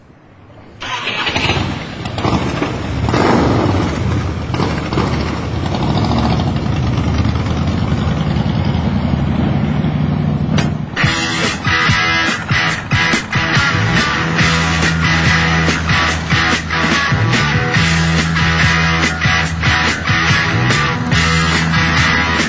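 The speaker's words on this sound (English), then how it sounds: "Riding through the streets of Mooloolaba is exhilarating, but it's when you leave the built-up areas that you start to experience the true magic of the Harleys." Harley-Davidson motorcycles start up and ride through Mooloolaba, with a loud, close rumble of engines that settles into a steady throbbing V-twin idle and cruise.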